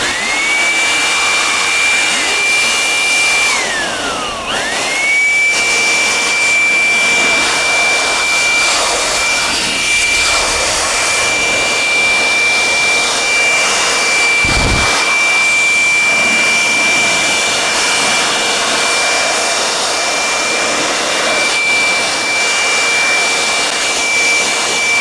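Brand new electric blower clearing dust from a decade-old desktop PC, a loud continuous high-pitched whine and rushing air that dips briefly near the start and then holds steady throughout, with no talk.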